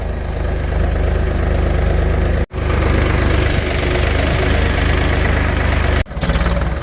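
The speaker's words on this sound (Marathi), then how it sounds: "मी चाललोय ट्रॅक्टर घेऊन हळूहळू." A farm tractor engine running steadily while slowly pulling a trailer loaded with bundles tied by a single rope, a loud, close, even diesel drone with rhythmic low thumping, briefly cut twice, no talk.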